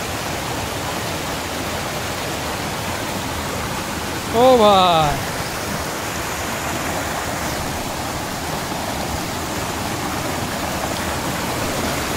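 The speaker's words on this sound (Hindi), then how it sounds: "ये देखिए पानी नीचे की ओर जा रही है" Water pours down Chirchiri waterfall in Jashpur, Chhattisgarh, a constant rushing roar that fills the scene from start to finish, briefly overlaid by a person's short exclamation partway through.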